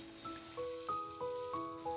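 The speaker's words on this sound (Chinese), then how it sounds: "首先把五花肉皮的一面在锅里煎一下" Pork belly skin pan-fried skin-side down in a wok, giving a steady close sizzle and crackle with occasional sharper pops, no talk over it.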